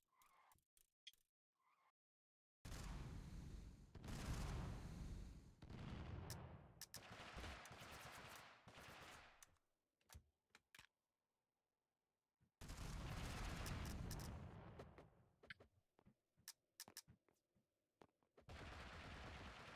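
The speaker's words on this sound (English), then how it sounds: "mobile rocket artillery" Mobile rocket artillery firing in Totally Accurate Battlegrounds, heard as two long, loud roaring barrages of rapid launches and blasts, each lasting several seconds, with sharp crackling hits scattered between them.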